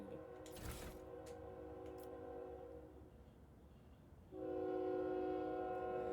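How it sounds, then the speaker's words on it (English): A train rumbles past in the video game Rogue Trader, a steady low rolling drone with a sustained horn-like tone that swells louder near the end. "There's a train coming through."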